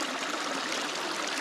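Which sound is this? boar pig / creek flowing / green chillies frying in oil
creek flowing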